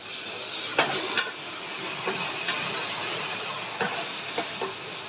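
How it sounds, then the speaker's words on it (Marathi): Tomatoes sauté in a pan for matar masala, a soft hissing sizzle with a few light spatula scrapes and taps, fairly quiet and steady. "दोन टोमॅटो ॲड करणार आहे हे पण आपल्याला तीन ते चार मिनटं भाजून घ्यायचं आहे"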